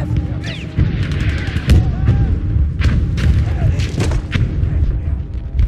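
Artillery fire in a Battlefield V Conquest multiplayer match: repeated heavy booms and blasts at irregular intervals over dense battle noise, some close and some distant, with a voice shouting over the din.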